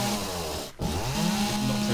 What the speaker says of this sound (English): chainsaw mods are always going to be good fun against trees